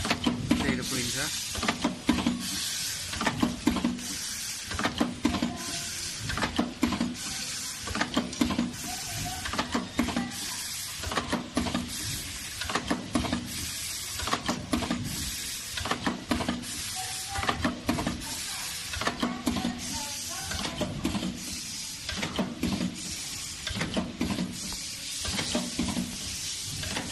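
A date printer on a tea bag packing machine runs in a steady rhythmic cycle of hissing, clacking strokes, repeating evenly throughout with a continuous mechanical whir.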